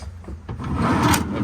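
A heavy-duty metal drawer on a 2015 Ram 5500 Autocrane service truck slides along its runners, a short latch click followed by a rolling, rumbling slide that builds and holds near the end.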